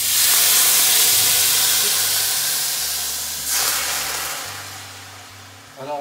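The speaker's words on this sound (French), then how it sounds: "déglacer au vin rouge, aussitôt que ma poêle va être suffisamment chaude" Red wine hitting a hot frying pan to deglaze it, a loud, steady hissing sizzle that slowly fades over several seconds, with a brief flare near the middle and a low background hum.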